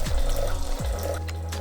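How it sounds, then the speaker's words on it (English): Water poured from a measuring cup into a pot while making lollipops, a short close trickling splash that continues over a low steady hum. "Now I'm adding water"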